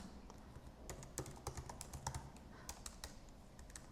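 Fingers type on a borrowed MacBook laptop keyboard, a quick irregular run of light clicking keystrokes, close up and steady over faint room noise, with no talk.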